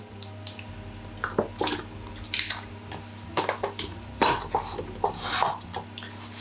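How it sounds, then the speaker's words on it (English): Hands rub salt and olive oil into a raw chicken stuffed with oranges, producing close, wet squishing and rasping strokes in irregular bursts. "Give it a little bit of a rub, get all the salt in, all over it."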